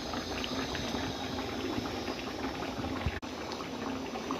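Andhra-style fish curry boiling in a pot, a steady close bubbling simmer with constant liquid noise throughout.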